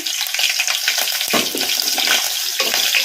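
Green chillies frying in hot oil over a medium flame, a steady dense sizzle with crackling bursts running throughout, close and fairly loud with no voices.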